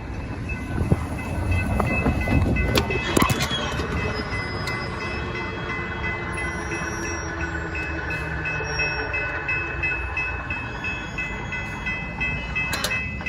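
A passenger train, No. 1228 bound for Chicago Union Station, rumbles steadily nearby as it arrives at a station, with low mechanical drone, faint squeals and a few clanks, no voices.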